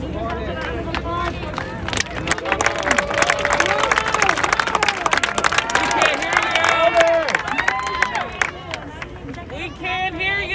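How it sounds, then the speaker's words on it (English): Rally crowd at a Union Square protest in New York City cheering and clapping, a dense, sustained roar of applause and shouts filling the whole stretch, with voices mixed throughout. "Give yourself a round of applause."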